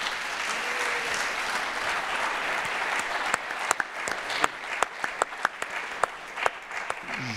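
A conference audience at a neuroscience talk applauds the speakers, dense clapping at first, then thinning into a few separate, sharper claps from nearby hands as it winds down.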